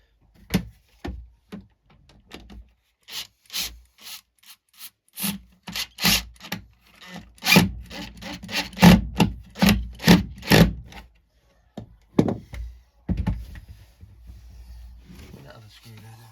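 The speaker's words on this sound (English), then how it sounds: "Now it's just a case of putting a couple of little screws in, fixing it to the ply." Small screws are driven into plywood while fitting equipment in a van. Close, rhythmic scraping and grinding turns come in short bursts, then pause, with occasional speech.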